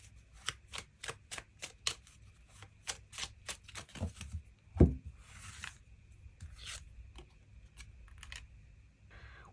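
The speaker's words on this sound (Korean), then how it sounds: "그럼 5번 분들 추가 카드로, 그래서 앞으로 내가 이 사람을 언제쯤 만나게 될지 시기적인 부분 추가 카드 뽑아보도록 하겠습니다." Tarot cards shuffled and drawn in a quiet room: a quick run of crisp riffling flicks, then a soft thump and a few separate card snaps and slides, close and clear with no talk.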